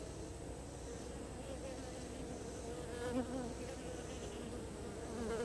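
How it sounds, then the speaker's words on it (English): A steady, droning hum of many bees buzzing in a top-bar hive during inspection as a bee hatches, close and continuous, with a low murmur of voices underneath. "There's a bee hatching."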